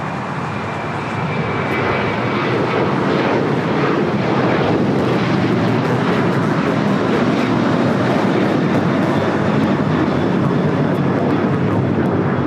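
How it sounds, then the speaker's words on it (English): An Alaska Airlines Boeing 737-800 taking off from LAX, bound for Washington Reagan National, a loud, sustained jet engine roar that builds early and holds steady and close throughout with no talk. "That is Alaska Airlines Flight 6 taking off to Washington Reagan National on the 737-800."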